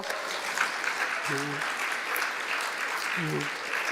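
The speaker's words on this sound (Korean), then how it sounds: "끝까지 함께 잘 갈 수 있기를 우리 원로님들과 함께 박수 한번 쳐드리겠습니다." A congregation at a Sunday worship service applauds steadily throughout, a dense wash of many hands at moderate distance, with a voice briefly speaking twice over the clapping.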